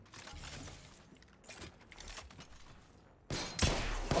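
Gunfire in the Apex Legends video game comes in short bursts, fairly faint and muffled at first, with a louder, sharper flurry of shots near the end.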